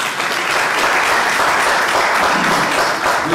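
Wedding guests at a civil ceremony break into loud, sustained applause, a dense wash of many hands clapping close by for several seconds.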